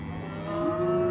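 Cattle low and moo in crowded sorting pens, a sustained loud bellow with a tonal rise partway through over a dense background of other animals.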